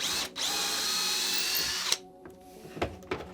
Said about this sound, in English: First, I'm going to drill the hole to install my camcorder.